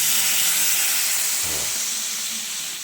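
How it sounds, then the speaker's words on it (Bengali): Water hits a hot pan of cooking mushrooms, a broad steady hiss and sizzle of steam that holds at even loudness throughout, close, with no talk. "এবার একটু জল দিয়ে দিচ্ছি"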